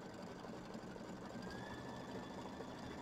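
An embroidery machine runs a triple stitch on felt with dark green thread, a steady fast mechanical whirring and needle chatter that continues without break at close range.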